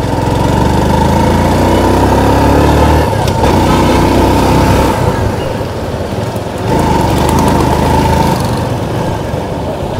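A TVS Sport motorcycle accelerates on the road, its small engine droning loud and close with a steady buzzing tone, briefly easing off twice as if shifting gears.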